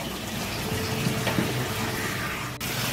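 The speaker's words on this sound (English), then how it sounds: "So now we're just giving it a good rinse" Cold water runs from a tap over pork being rinsed, a steady splashing rush that continues throughout at moderate volume, with no talking.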